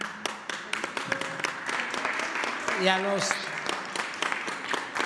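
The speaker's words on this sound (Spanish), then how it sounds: "Un aplauso a María Elena" An audience at a press event about Mexican-made ventilators applauds, sharp individual claps close by and spread across several seconds, with a person speaking over them.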